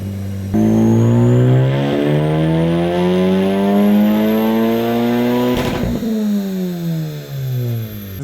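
A 600 hp Honda Civic Type R on a dyno revs hard, a loud close engine note climbing steadily in pitch for several seconds before a sudden break, then winding back down.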